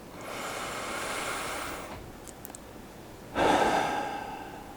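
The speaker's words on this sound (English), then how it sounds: "let's take another deep breath" Slow deep breathing during a calm ASMR meditation, a long soft inhale followed after a pause by a louder, airy exhale close to the microphone.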